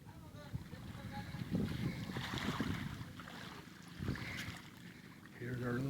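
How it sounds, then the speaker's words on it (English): A small boat with a 16 horsepower motor runs on open water, the engine hum mixing with wind and splashing waves, fairly faint, and someone talks over it. "Nice little boat, 16 horsepower motor."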